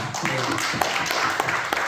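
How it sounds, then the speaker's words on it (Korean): A church congregation at a prayer-house gathering claps in welcome, a short burst of scattered hand claps under murmuring voices. "우리 박수로 환영합니다."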